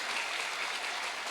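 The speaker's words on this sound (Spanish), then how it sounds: "Despiértele con fuerte aplauso a la persona que está medio dormido a su lado." A church congregation claps loudly at a Spanish-language evening sermon, making a brief, dense, continuous wash of many hands with no individual claps standing out and no voices on top.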